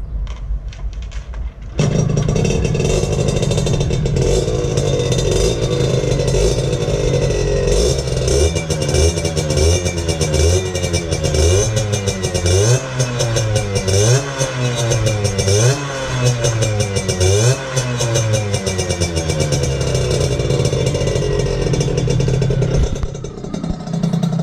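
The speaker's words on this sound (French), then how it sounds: "Pour un petit pot de 50, je trouve que ça a vraiment un beau petit bruit." A 50cc moped fitted with a Most exhaust pipe fires up and runs loud and close, its buzzing two-stroke engine revving up and down repeatedly in rising and falling sweeps with no talk.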